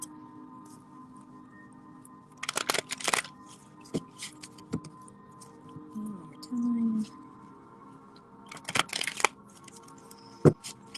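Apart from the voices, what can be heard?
shuffling a deck of cards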